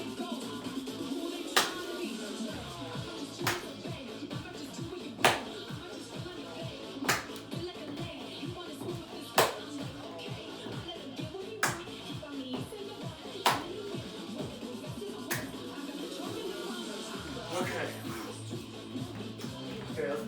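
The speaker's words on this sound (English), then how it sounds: "try to clap on beats" Claps on the beat during a dance workout, sharp periodic hits roughly every two seconds standing out over steady upbeat music with a shuffling beat throughout.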